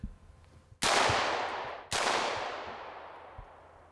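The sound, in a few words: gun firing single shots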